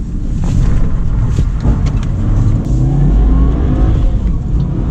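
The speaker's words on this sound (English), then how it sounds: "So as you can see, it revs up really fast." A car engine revs hard and loud, a sustained roaring drone that rises and holds close by, with no voices.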